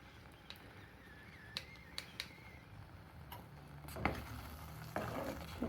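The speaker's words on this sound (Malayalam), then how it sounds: "എന്നിട്ടൊന്ന് നന്നായിട്ട് യോജിപ്പിച്ചു കൊടുക്കാം." Whisked curd stirred into a heated ground coconut paste for Kerala pumpkin pachadi, faint scrapes and taps of a spoon against the pan over a low sizzle, with a few sharper knocks.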